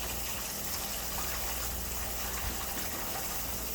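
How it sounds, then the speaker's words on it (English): Cold tap water gushes steadily into a bowl while rice is washed, a loud continuous rushing splash that fills the whole stretch without pause. "I'm going to turn the water off so you can hear me"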